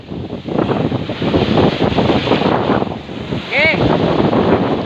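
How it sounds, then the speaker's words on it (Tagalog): Large ocean waves rolling around a small fishing boat at sea, a loud, steady rushing wash with heavy wind buffeting the microphone and a brief whistling tone near the end. "Grabe ang lalaki ng alon."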